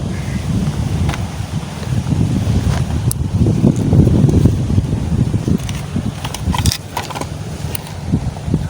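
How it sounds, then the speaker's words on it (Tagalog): Wind blows steadily across a microphone while fishing out on the water, a continuous rumbling buffet with a few light knocks and clicks scattered through it. "Hangin eh."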